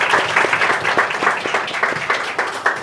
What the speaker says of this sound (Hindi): सभी लोग ताली स्वागत कीजिए।